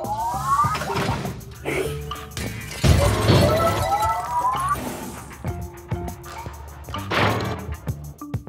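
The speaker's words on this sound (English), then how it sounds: "Unfortunately, the breaking of this glass is a necessary evil." Glass shatters in the video game Quantum Conundrum, with repeated crashes and tinkling shards scattered across the scene, mixed with game sounds and a voice.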